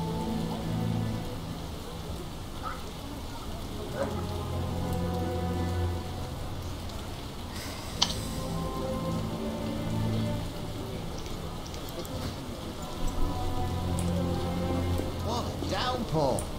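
Heavy downpour in The Witcher video game, a constant dense hiss of rain drumming on surfaces with steady loudness throughout, layered over low tonal in-game background sound and a few faint isolated clicks.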